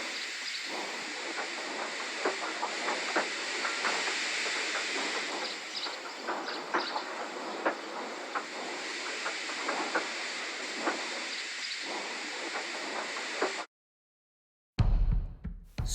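A steam engine train rolls steadily onto a siding, its hiss and rail clatter holding at a constant loudness, then the sound cuts off abruptly near the end.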